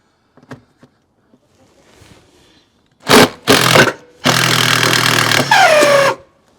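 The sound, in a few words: power drill spinning off a nut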